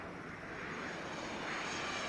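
An airliner departing from runway 9 right at Atlanta airport, a steady distant engine roar that swells slightly and holds throughout.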